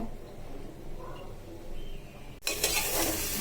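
Bombay duck (loitta shutki) dried-fish paste hits hot mustard oil in a pan. After a quiet moment there is a sudden loud, steady hiss of sizzling frying.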